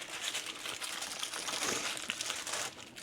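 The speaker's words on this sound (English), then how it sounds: "I got 3 sheets of tin foil here" Aluminium tin foil sheets crinkle and crunch steadily while being wrapped around barbecue ribs, a close, continuous rustling that fills the whole stretch with no talk.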